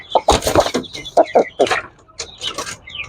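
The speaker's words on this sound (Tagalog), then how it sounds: "Japanese Tanaka, Japanese Tanaka Shamu chicken" A Japanese Tanaka Shamo hen clucks close by in a run of short, throaty calls that come in quick bursts with brief pauses between them.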